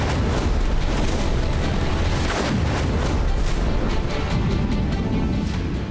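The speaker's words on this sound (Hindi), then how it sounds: "ईरान पर जबरदस्त बमबारी।" Heavy bombing explosions from strikes on Iran, with Tehran shaken by bombs dropped by B-2 bombers, roll as a loud, continuous low rumble with deep booming surges and no clear pauses.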